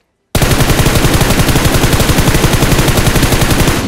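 Automatic gunfire in the mobile battle royale game PUBG Mobile bursts in abruptly and continues as a loud, rapid, evenly spaced stream of shots to the end.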